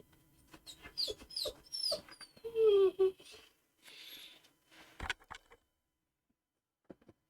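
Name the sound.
dog whimpering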